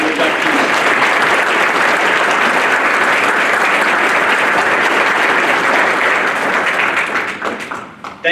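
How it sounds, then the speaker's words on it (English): A school audience gives loud, sustained applause at a middle school NJHS induction ceremony. Dense clapping fills the room for several seconds, then thins out toward the end. "How about a round of applause for our readers and our inductees?"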